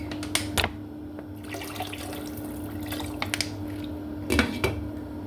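Water runs and splashes into a cooking pot of chicken meatball soup with misua in a home kitchen, with a steady faint trickle, a few clanks of pot and utensil, and low hum in the background.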